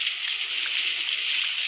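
Steady watery sloshing and gurgling as water pours in Poppy Playtime Chapter 2, a continuous broadband flow heard alone without talk for its short length.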